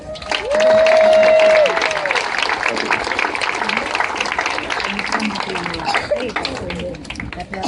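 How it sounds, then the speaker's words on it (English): Crowd applause at an outdoor Walk to End Alzheimer's remembrance ceremony, a broad steady wash of clapping that holds for several seconds, with a brief tone near the start and scattered voices. "How about a nice round of applause again for all of them?"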